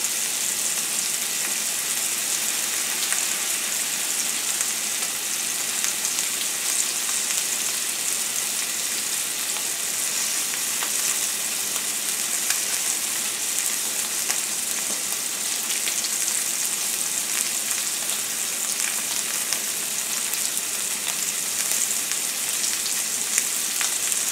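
Continuous loud sizzling of a ribeye steak searing in a hot pan, a steady hiss with crackling pops, no voices.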